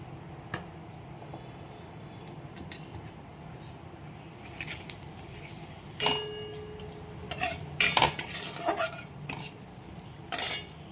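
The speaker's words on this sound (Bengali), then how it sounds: "জিরে ফোড়ন দিয়ে দিলাম ওই তেলের মধ্যেই, মাছের তেলে।" Cumin seeds and dried chili tempering in leftover fish-frying oil, a faint low sizzle under scattered clinks and scrapes of a utensil against the pan, growing busier toward the end.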